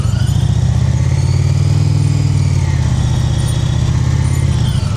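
A motorcycle engine idles and burbles loudly up close at low speed, a steady, throaty rumble during slow-speed riding practice on a cone course.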